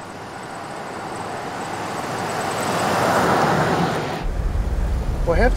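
A 1971 Cadillac on the move, a steady broadband road and engine rumble that swells midway, then gives way to a closer low thumping near the end, with a voice briefly audible.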